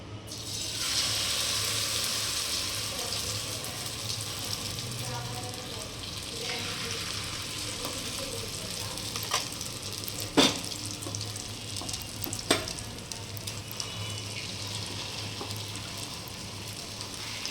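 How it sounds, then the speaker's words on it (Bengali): Batter hits a hot frying pan and sizzles with a soft, steady hiss at low level, with a couple of sharp clicks of utensils against the pan. "এই যে ব্যাটার, এবার যেটা ফ্রাই প্যানের মধ্যে পড়বে।"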